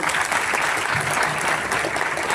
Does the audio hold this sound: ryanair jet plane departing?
no